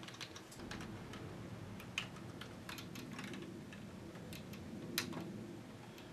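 Steady computer-keyboard typing as a URL is entered while setting up an Axel thin client for Citrix Storefront, quick close key clicks running throughout with a couple of louder strikes.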